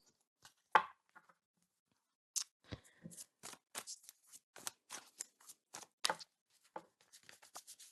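Papers rustling and shuffling as someone searches for notes: scattered crisp crinkles and flicks, sparse at first, then a busier run of quick rustles, close and quiet with no talking.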